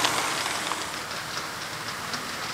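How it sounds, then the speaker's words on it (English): An eastbound stone train approaches, heard as a continuous, moderately loud rail rumble with faint clicking and hiss. "Our eastbound stone train is now approaching."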